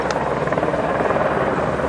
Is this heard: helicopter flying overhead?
yes